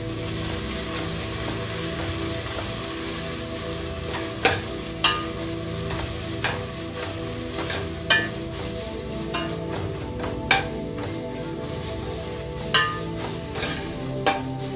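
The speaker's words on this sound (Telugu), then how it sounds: "పచ్చివాసన పోయేంత వరకు కలుపుతూనే ఉండండి" Mutton marag masala with mint and coriander being stirred in a hot pan, a steady sizzle with a spoon scraping and clicking against the pan every second or so, close and alone.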